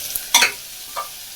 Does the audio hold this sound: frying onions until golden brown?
yes